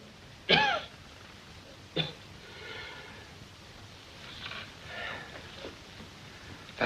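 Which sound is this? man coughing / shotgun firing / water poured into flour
man coughing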